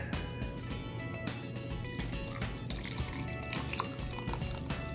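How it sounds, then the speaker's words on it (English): Milk pours into a mug for hot chocolate, a soft continuous liquid trickle and splash that carries steadily from start to finish, close up and fairly quiet with no talk. "And now I'm gonna add my milk."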